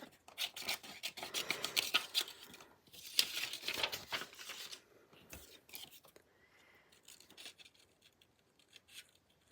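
Scissors cutting a paper flash card close to the microphone, a run of quick crisp snips and paper rustles in bursts over the first six seconds, then quieter handling of the paper.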